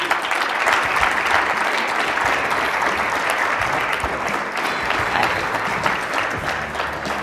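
A conference audience claps for a panel being welcomed, with dense, steady applause that fills the room and holds at an even level throughout, with no voices rising above it.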